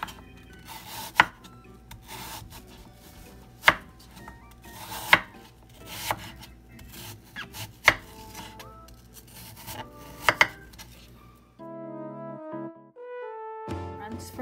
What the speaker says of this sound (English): And slice this thinly.